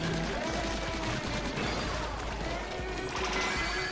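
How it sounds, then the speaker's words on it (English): A Steelhead salmonid's chain of explosions in a Splatoon Salmon Run match: dense, crashing blasts and debris that pile up continuously and loudly for several seconds without any talk. "Steelhead chain explosion"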